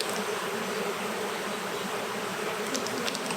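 Bees at a hive being fed syrup: a dense, steady buzzing swarm close by, unbroken throughout, with no voices.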